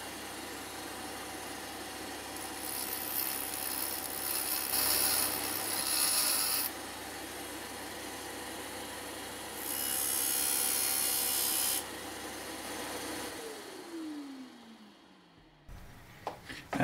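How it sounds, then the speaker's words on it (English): A cubic boron nitride stick dresses a radius on the front edge of a spinning grinding wheel, making two faint, hissing bursts of abrasive rubbing over a low motor hum, followed by the wheel winding down. "now we are going to dress a radius on the front edge of this wheel"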